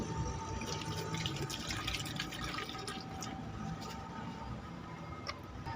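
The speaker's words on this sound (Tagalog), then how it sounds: "Lalagyan natin to ng tubig." Water poured into a Kyowa electric kettle, a soft continuous splashing and trickling heard close by and quiet, with no talking.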